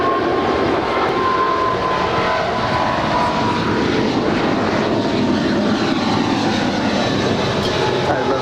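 An airliner at Los Angeles LAX airport roars loudly and steadily throughout, a continuous broadband engine rush with no speech over it.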